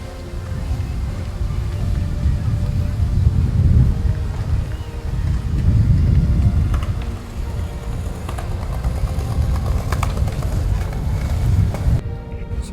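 A car drives along the road, heard from inside as a steady, loud low rumble of road and engine noise that swells and eases gently throughout.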